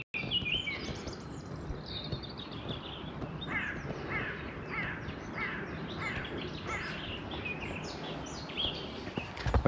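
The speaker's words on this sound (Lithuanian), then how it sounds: "kaip bala kokia, paukščiai čiulba." Small birds chirp and tweet beside a small lake, with repeated short high calls scattered over a constant outdoor background hum.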